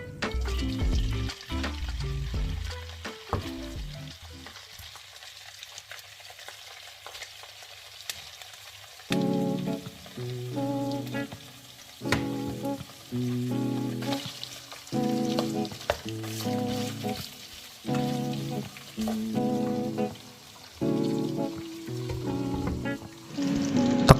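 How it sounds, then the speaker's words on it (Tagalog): Chicken skin and fat sizzle in olive oil in a pan, a steady hiss of frying running underneath louder melodic background music throughout. "Then ilalagay na po natin ang chicken skin or chicken fats."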